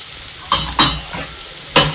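Banana flower curry cooking with sugar and chili powder is stirred in a pan, several scraping strokes over a soft sizzle, close and moderately loud with no talking.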